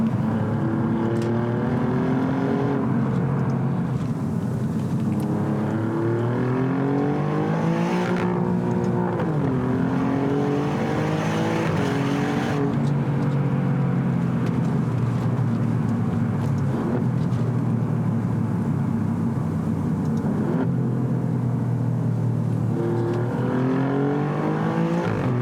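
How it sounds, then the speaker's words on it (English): An Alfa Romeo Giulia Quadrifoglio's exhaust drones and rises in pitch through repeated revs and gear changes, heard from inside the car, muffled but strong and continuous. "I hope you can hear the exhaust note out the back."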